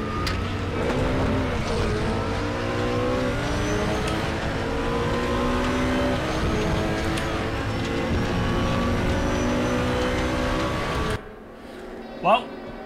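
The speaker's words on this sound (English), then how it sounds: "You can hear his exhaust spluttering as he goes past us." GT3 race cars in the RaceRoom racing game, with a loud revving engine drone and an opponent's exhaust spluttering as it passes close, continuous for about eleven seconds before cutting to near quiet with a brief blip.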